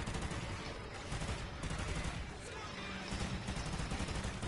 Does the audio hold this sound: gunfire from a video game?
yes